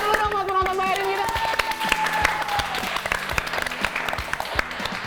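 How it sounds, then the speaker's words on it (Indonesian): A studio audience claps together in a sustained round of applause at a live talk show. Dense, continuous clapping carries throughout, with a host's voice briefly audible at the start. "Tepuk tangan dulu dong buat penonton bayarin kita"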